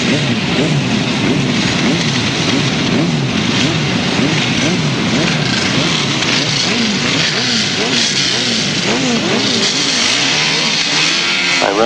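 Several 1000cc grasstrack racing sidecar engines rev hard together on the start line, a loud, continuous, rising and falling roar of multiple engines with no voices.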